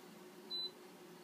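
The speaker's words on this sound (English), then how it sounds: "The little beep you hear is from my air conditioner actually registering the signal." An air conditioner gives a single short, high electronic beep as it receives a command from an Arduino-based remote, heard once against a quiet room hum.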